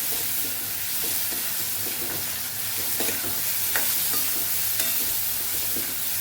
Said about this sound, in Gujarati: એને સરસ સાંતળી દઈશું